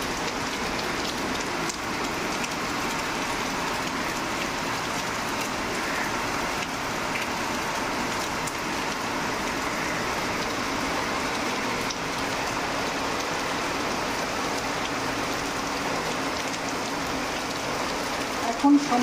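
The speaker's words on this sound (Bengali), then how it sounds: "দেখো কীরকম করে মুষলধারে বৃষ্টি হচ্ছে" Torrential monsoon rain pouring down outdoors, a dense, steady roar of drops on surfaces that stays even and loud throughout without a break.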